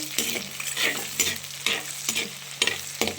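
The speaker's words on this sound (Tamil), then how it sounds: "சின்ன வெங்காயம் நல்லா கலர் மாறிடுச்சு, நல்லா வதங்கிருக்கு." Shallots sauté in a pan with a soft background sizzle. A spoon scrapes and stirs in repeated, rhythmic strokes close by, and no one speaks.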